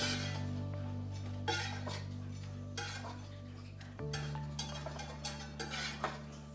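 Pancakes being dropped into a bowl in a home kitchen, with soft clinks and scrapes of dishes and utensils over a steady low hum, including a sharp knock partway through.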